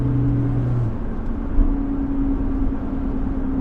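A Toyota 4Runner TRD Pro on a test drive gives off a steady in-cabin road rumble with a low engine drone and a faint whine, continuous and moderately loud throughout.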